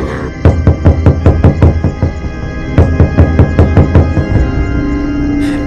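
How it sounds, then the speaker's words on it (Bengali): A door is pounded over and over in steady, heavy bursts, loud and close, with a short pause before a second run of blows. "এর সঙ্গে দরজা ধাক্কানোর শব্দ"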